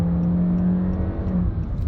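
A turbocharged 1.5-liter Honda Accord engine pulls under acceleration, giving off a steady, loud, even hum with a faint whir on top.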